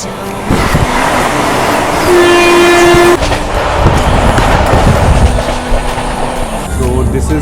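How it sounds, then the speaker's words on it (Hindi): Indian express trains running side by side as the Sayaji Nagari Express overtakes a double-decker express near Vadodara, loud rumbling wheels and clattering, with a sustained horn blast in the middle. "Parallelly overtaking Sayaji Nagari express."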